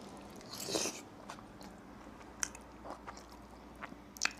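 Sardines with chili crisps, tomato and onion bitten into and chewed close to the mic: one louder crunchy bite early, then soft, wet mastication with small clicks, quiet and with no talking.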